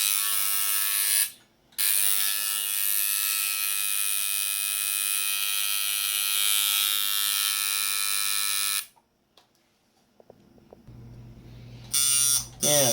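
A hand-built coil tattoo liner machine, a replica of a Paul Rogers design, buzzes with a steady, loud electric whine for several seconds. It cuts out briefly, runs again, then stops near the end, leaving only faint handling noise and a short final burst.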